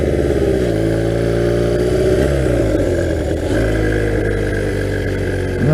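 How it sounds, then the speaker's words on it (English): A 1982 Honda 250cc vertical twin flat track motorcycle runs loud and close, its uneven, buzzy note rising and falling with small throttle changes. "this dang vertical twin sounds exactly like a 2-stroke."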